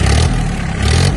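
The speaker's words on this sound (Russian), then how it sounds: "Погазуем." A 27 hp Iseki Geas 27 cab mini tractor revs briefly, its diesel rising into a loud, rough, clattering roar and easing back within about a second, heard close.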